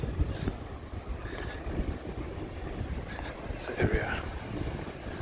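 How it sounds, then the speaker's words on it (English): Gusty wind on a street in Malmö, Sweden, buffets the microphone with low rumbling bursts that rise and fall, while a person says a single word partway through. "this part was very windy again"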